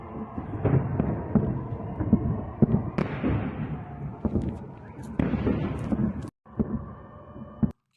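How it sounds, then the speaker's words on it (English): Strikes on Belgorod bring several sharp, heavy booms and bangs at irregular intervals over a rumbling background, mixed with voices talking. "in this video, we could definitely hear lots of explosions"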